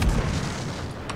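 An artillery shell impact in World of Tanks, a single dull boom heard from a distance with a short rumbling tail and no voices.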